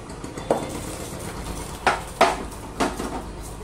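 A metal spoon scrapes and knocks against a hot wok holding dal, several sharp clanks spaced irregularly over a faint background hiss, close and fairly loud.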